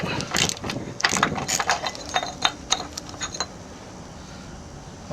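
13 mm socket wrench loosening a zinc anode bolt on the bottom of an outboard engine: a run of quick metallic ratcheting clicks and clinks, close and moderately loud, fading into quiet background hiss.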